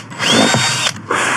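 A cordless drill whirs in a loud, close, high whine for about a second, stops briefly, then spins up again, during work on a bed for a Volvo XC90 car camper.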